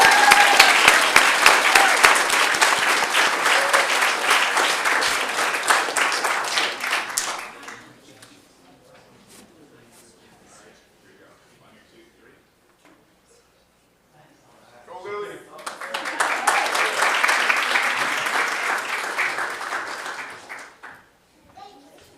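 A board meeting audience applauds loudly for about seven seconds, goes quiet for several seconds, then breaks into a second sustained round of clapping.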